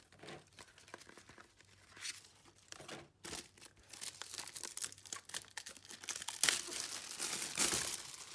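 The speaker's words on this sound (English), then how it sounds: "satisfactory cellophane unwrapping" Cellophane crinkles and tears as it is peeled off a Warhammer 40,000 Kill Team box, a Deathwatch Kill Team Mordelai set, in bursts of close, uneven rustling that swell louder toward the end.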